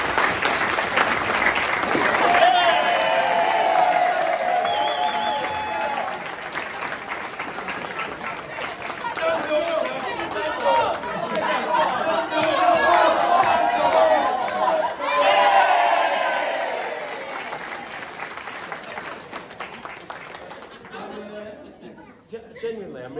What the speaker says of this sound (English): So I'd like to give a big clap for them